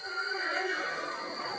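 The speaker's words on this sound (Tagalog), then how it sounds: "nakapag-video kami nung time na may umaalulong na kabayo" A wild horse neighs at night in a dark forest, a single drawn-out whinny that sounds distant and somewhat faint against a quiet background.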